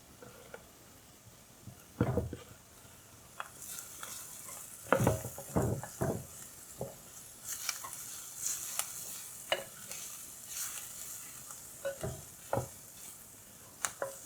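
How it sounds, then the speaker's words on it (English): Garlic and tomato paste fry in a pot for a simple Iranian stew, a low sizzle beneath repeated spoon scrapes and knocks against the pot, with brighter hissing bursts in the middle. "So let's add the tomato paste. It's time to add garlic."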